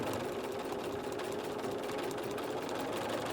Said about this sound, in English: I'm stitching a couple inches, moving and smoothing.